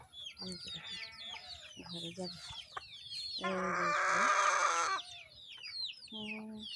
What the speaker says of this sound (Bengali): মোরগ আসছে কিন্তু এই মুরগিগুলা মুরগিগুলার ভয়ে উঠতে পারতেছে